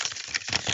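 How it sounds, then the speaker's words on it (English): A deck of tarot cards is being shuffled in a brisk burst of papery riffling and flicking, close and fairly loud, with no talk. "we're shuffling up again."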